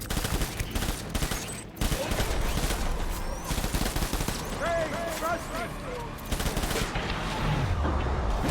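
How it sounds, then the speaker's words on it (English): Assault rifle fire in the video game Death Stranding, bursts and fusillades of shots layered over game sound effects and music, moderately loud, with some speech faintly mixed in. "Let's pull out a assault rifle."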